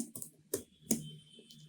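Name being entered on a computer keyboard while launching an Android Studio app, a few soft, sparse keystrokes with two sharper clicks, close by and alone in a quiet room.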